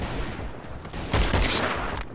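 Gunfire in the video game Double Action: Boogaloo, a quick burst of several shots close together that pops out over low game ambience, loud and sharp near the middle.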